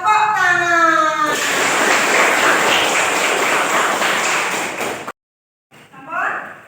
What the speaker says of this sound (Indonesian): paringi tepuk tangan